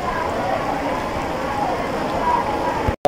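Autumn rain in Bangladesh pattering steadily and evenly on surfaces, a dense, continuous patter that holds at one level before a brief cut near the end.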